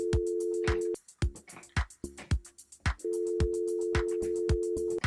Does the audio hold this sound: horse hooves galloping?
no